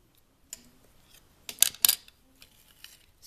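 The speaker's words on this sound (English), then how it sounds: "you're going to cut straight down the middle of this in the center." A strip of duct tape is cut straight down the middle, producing a few short, close snipping and crinkling sounds, clustered into quick bursts in a quiet room with no talking.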